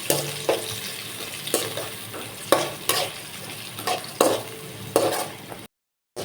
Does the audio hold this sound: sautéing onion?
yes